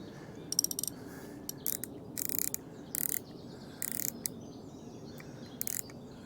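A carp fishing rod's reel ratchets in short intermittent bursts as line is pulled off by a fish, clicking repeatedly over several seconds against quiet lakeside ambience with faint birdsong.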